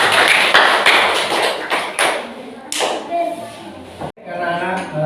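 A classroom of children claps hands together in a burst of irregular taps and slaps at a primary school lesson, close and fairly loud, with brief voices mixed in toward the end.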